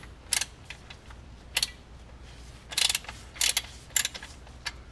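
A ratchet wrench turns to loosen the fill plug on a Ford F150 4x4 transfer case, making a series of sharp, close clicks in short irregular bursts over a faint background.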